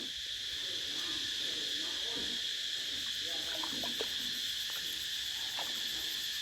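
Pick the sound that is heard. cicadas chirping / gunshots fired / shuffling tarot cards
cicadas chirping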